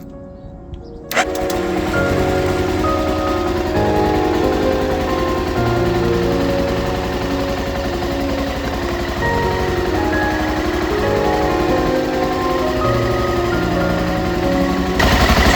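An older BMW F650 Funduro motorcycle engine catches after a brief quiet moment and settles straight into a steady, close, continuous idle that runs unbroken to the end.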